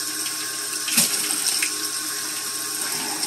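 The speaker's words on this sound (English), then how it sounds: "He's rinsing the cups" Running tap water splashing steadily as cups are rinsed under it, a close continuous hiss with a brief louder gush partway through, no talking.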